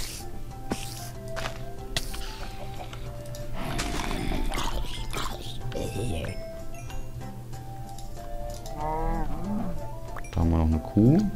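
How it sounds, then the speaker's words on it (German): Cow mooing in the Minecraft video game, several drawn-out lowing calls over ongoing game ambience, with a louder moo near the end. "Da haben wir noch eine Kuh mit ein bisschen Aua."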